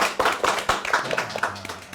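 An audience claps in short uneven bursts during a Sundanese talk show about millennial farmers, the hand claps close and fairly brief, with no one speaking over them.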